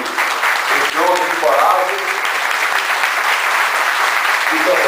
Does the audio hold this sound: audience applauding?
yes